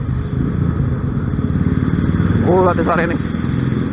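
A Royal Enfield 500 motorcycle engine runs with a steady, loud, close rumble beneath someone talking.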